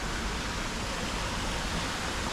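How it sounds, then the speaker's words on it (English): Water pours steadily from serpent-shaped waterfall features at a resort hotel pool, a constant broadband rush with no break or variation, close and even in level. "A couple of nice little waterfall features."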